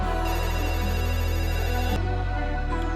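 A phone ringtone plays inside a song with distorted, airy guitar and a background choir, steady and loud over the music, shifting near the end as the mix changes.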